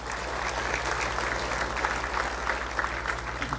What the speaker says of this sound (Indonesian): tepuk tangannya untuk Allah, pujiannya untuk Allah